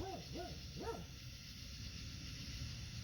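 A dog barks three times in quick succession at the start, a little way off, its rising-falling howl-like barks over a steady background hiss, then quiet.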